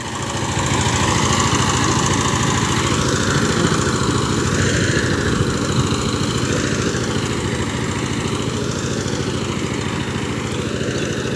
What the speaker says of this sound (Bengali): এখানে সাইপিং 16 HP diesel engine 18 ব্লেডের power tiller দিয়ে